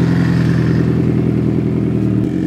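A superbike engine rumbles loudly and steadily up close, a throaty idle with a rough, pulsing clatter and no voices.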